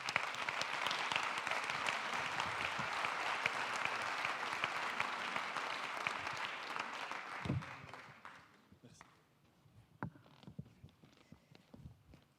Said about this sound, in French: Et on peut l'applaudir, évidemment.